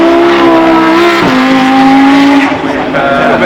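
A racing car with an upgraded flat-six engine and four-valve cylinder heads climbs the hill at Goodwood, its loud, close engine holding a steady high note before a gear change, then pulling away again.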